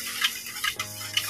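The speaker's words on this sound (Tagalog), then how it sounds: "Tapos haluin lang natin siya guys." A spoon stirring a Magnum-inspired chocolate ice candy mixture, a few soft scraping and clinking strokes against the container spaced in a loose rhythm, close and fairly quiet, with no talk.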